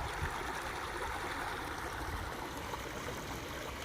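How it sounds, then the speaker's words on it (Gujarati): Shetrunji river water flowing steadily near a bridge, a continuous rushing wash with no voices, close and even throughout. "હવે મસ્ત પાણી જાય છે."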